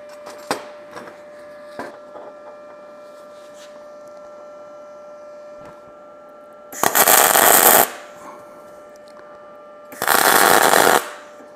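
An Arc Captain MIG 200 welder at 26 volts with 0.8 mm wire, welding three-eighths steel plate in two separate harsh, crackling bursts of about a second each, loud against a quiet background with a steady electrical hum and a few faint knocks.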